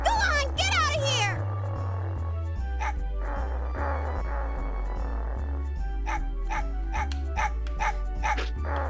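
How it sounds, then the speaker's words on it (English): Dog barking and yipping in the video game Megaman Legends, a run of repeated sharp barks and whimpering yips over game music and voices, with a character speaking at the start. "So here, Tron is being scared by the dog"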